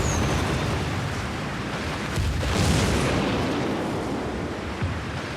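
Deep, rumbling booms of naval gunfire from the Battle of Tsushima pounding the battleship Mikasa roll continuously beneath a dense wash of noise, distant heavy guns with no clear pauses between blasts.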